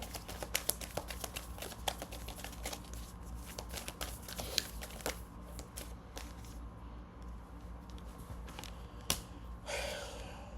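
Tarot cards are shuffled by hand at close range, with a rapid irregular run of soft slaps and riffles over quiet room noise and a brief rustle at the end.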